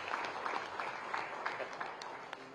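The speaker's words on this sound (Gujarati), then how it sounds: "એના માટે તો તાળી બને જ છે" Quiet audience applause at a government event in Gandhinagar where the Chief Minister releases the G20 Gujarat Connect report, a brief, soft patter of clapping heard from a distance.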